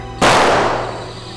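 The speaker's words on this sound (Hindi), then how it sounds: "गोली की आवाज है।" A single loud gunshot in a tense crime-drama scene cracks sharply, then leaves a long fading reverberant tail with no talk over it.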